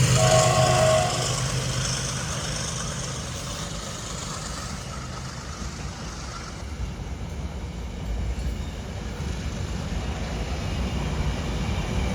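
A train rumbles along with a steady low roar and rattling wheels; a brief tonal horn-like sound opens the passage before the rolling noise continues.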